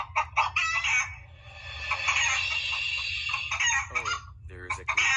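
A chicken clucks and squawks in a rapid series of calls close by, with a drawn-out crow-like cry in the middle.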